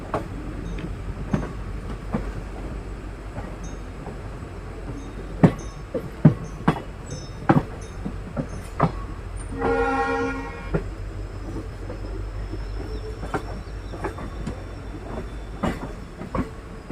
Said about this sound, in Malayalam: നമ്മുടെ ട്രെയിൻ എങ്ങനെ അപ്പോൾ ഹാസൻ റെയിൽവേ സ്റ്റേഷനിലോട്ടാണ് എത്തിക്കൊണ്ടിരിക്കുന്നത്.